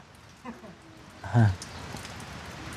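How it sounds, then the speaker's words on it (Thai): Light rain patters softly and steadily, faint and close, with a short vocal sound rising briefly over it midway. "หนาวเนาะฝนตกอีเนาะ"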